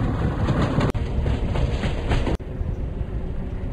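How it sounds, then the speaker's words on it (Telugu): Passenger train rolling past in the Indian Train Sim mobile game, a loud continuous rumble with rhythmic clickety-clack of wheels over rail joints, broken by two brief sharp cuts. "ఇప్పుడు ఆ ట్రైన్ వస్తుంది చూడండి గైస్ చూడండి చూడండి వచ్చేస్తుంది"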